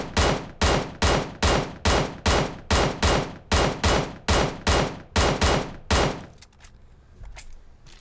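A QBU88 rifle with no attachments fires in PUBG Mobile, about a dozen loud, evenly spaced shots in steady semi-automatic rhythm, then quiet with faint clicks.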